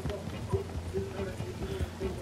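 Hooves clip-clop in a quick galloping rhythm as a horse runs in the video game Red Dead Redemption 2, close and steady, with people talking over it.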